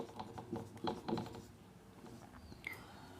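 Chalk or marker strokes scratching across a classroom board during a chemistry lesson, a quick run of short scraping strokes near the start, then fainter rubbing, with no talk over it.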